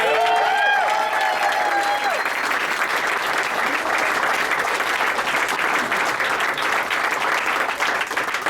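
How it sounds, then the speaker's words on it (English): A room full of people at a North Hempstead town supervisor and clerk celebration bursts into sustained applause, steady dense clapping with some cheering at first, held at an even level throughout. "all of you need a big round of applause for all of us"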